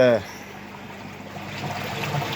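Water draining out of koi pond filters, a steady soft trickle and gurgle just after a brief voice at the start.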